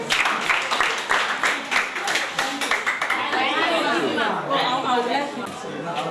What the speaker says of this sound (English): Okay, well, clap for yourself.